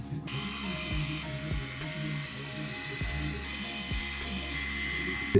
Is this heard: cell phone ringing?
no